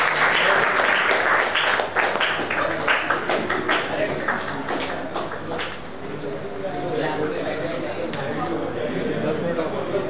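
An audience at a student welfare event applauds, with a burst of sharp, scattered claps that thins out midway before a softer patter returns, and voices murmur in the background.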